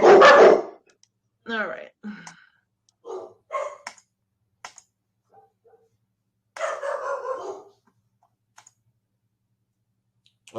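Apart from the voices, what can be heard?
dogs barking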